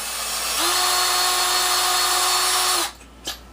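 A drill spinning a case trimmer on .223 brass cases spins up to a steady high whine, runs for a couple of seconds, then stops with a brief click afterward.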